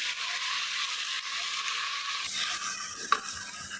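Marinated chicken for biryani fries in a pan with golden-browned onions, giving a loud, dense hiss of sizzling that drops partway through, with a sharp utensil click near the end and no talk.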